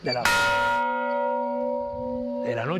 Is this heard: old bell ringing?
yes